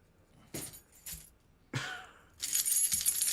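A set of keys jingles in short, separate shakes that build to a longer, brighter rattle toward the end, fairly quiet in an otherwise still room.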